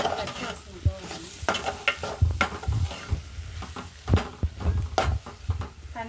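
Chili powder masala sizzles in a hot pan while a spoon scrapes and stirs it in irregular strokes, close and clear, with no talking.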